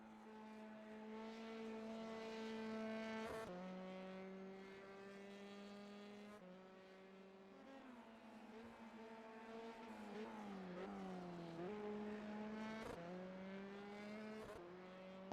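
An F3 race car laps Imola in a video game during San Marino Grand Prix qualifying. Its engine is a steady, high-pitched whine that climbs and drops through repeated gear shifts and braking, with no talking.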